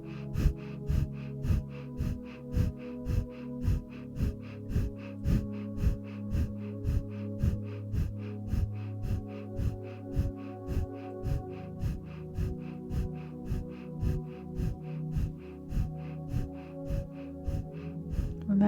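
Rapid Breath of Fire breathing from a Kundalini yoga practice, a steady run of quick, rhythmic forceful exhales with snorting puffs through the nose, evenly paced for the whole stretch, close and fairly loud over a faint sustained tonal background.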